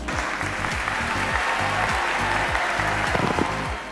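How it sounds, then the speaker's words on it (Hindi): Steady audience applause fills the hall as a speaker is introduced at the Pakistan International Film Festival, dense clapping holding evenly throughout with some background music or low hum beneath. "मैं अब इंट्रोड्यूस करना चाहूँगी आपकी बहुत सारी तालियों में ज़ैनब अंसारी।"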